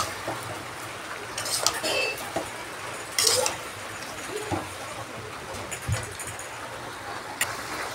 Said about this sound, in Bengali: এবার আবার একটু নাড়িয়ে নেব।